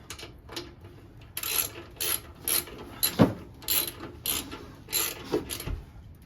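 A ratchet wrench clicks steadily as brake bolts are tightened on the front brake of a 2001 Kawasaki Vulcan Nomad 1500cc motorcycle, with close, rhythmic bursts of pawl ticking and no talking.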